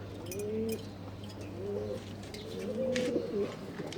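Pigeons in a small home pigeon loft coo softly in a few rolling, throaty phrases, fairly faint, with a steady low hum in the background.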